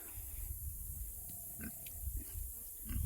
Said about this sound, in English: them pigs are curious